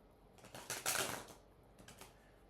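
Tarot cards are shuffled in a short riffling burst that swells and fades within a couple of seconds, close and clear with no talking.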